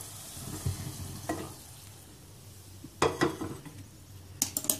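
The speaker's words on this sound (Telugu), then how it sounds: "ఈ పోపు మొత్తం రసం ఉడుకుతున్న రసంలో వేయాలి." Fried tempering for drumstick rasam is poured into the boiling pot, giving a faint sizzle with a few sharp clinks of metal utensils against pans, quiet with no talk.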